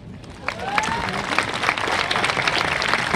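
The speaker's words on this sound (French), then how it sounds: "Bon, on peut l'applaudir." Applause breaks out at a music lecture: dense hand-clapping that builds quickly and stays steady and fairly loud, with a brief vocal sound early on.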